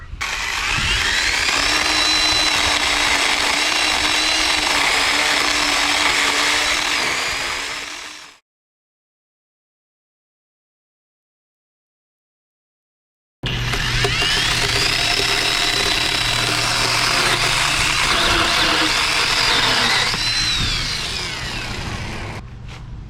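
A hand-sharpened chainsaw cutting wood, its engine roaring loud and steady for about eight seconds, a sudden silence, then another long sustained cut at full throttle, with no talking.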